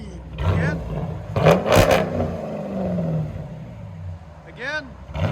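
A Dodge Durango RT's HEMI engine blips hard in a couple of quick, loud revs early on, then settles into a steady rumble while voices chatter nearby.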